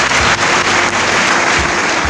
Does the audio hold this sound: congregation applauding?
yes